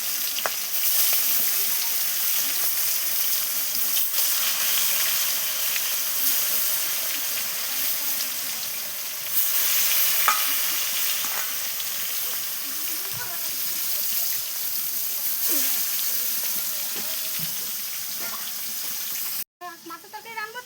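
Fish fries in salted oil in a pan on a clay stove, giving a loud, steady crackling sizzle that runs through the whole stretch, with someone talking now and then.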